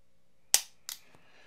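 Two sharp mechanical clicks of a handgun trigger resetting after being lubricated with Gun Butter, crisp and close, with a faint third tick, in an otherwise quiet room.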